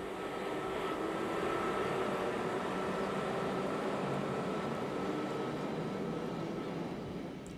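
Brussels to Amsterdam passenger train hauled by a dual-voltage Class 11 electric locomotive, a steady rumbling roll of wheels on rails, heard from on board at an even volume.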